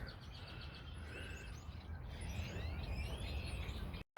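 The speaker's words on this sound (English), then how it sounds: "You can hear both the grackles and those swamp blackbirds together in this in the bushes of this pond." Grackles and swamp blackbirds call and whistle together from bushes by a pond in Edmond, Oklahoma, over a dense, noisy background, with overlapping chirps and sliding notes from moderate distance.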